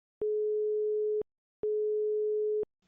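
Telephone busy tone after a cut-off call: two clean, steady one-second beeps separated by a short pause, clear and isolated with nothing else around them.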